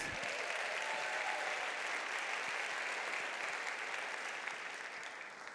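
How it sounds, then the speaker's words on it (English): A large audience at a foundation's centennial celebration breaks into sustained applause, a dense even wash of clapping that holds steady and begins to fade at the end. "Let's give another round of applause."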